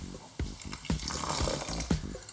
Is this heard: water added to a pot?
yes